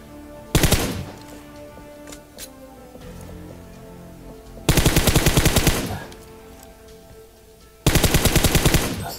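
Three bursts of rapid automatic gunfire in the mobile game PUBG Mobile, each a loud, fast string of shots lasting about a second, separated by quieter pauses with faint background game sounds.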